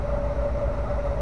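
A steady low rumble of a track maintenance train at a railway station, with a sustained tonal hum running throughout, continuous and fairly close, with no voices.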